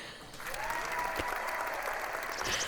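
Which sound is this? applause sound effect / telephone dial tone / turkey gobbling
applause sound effect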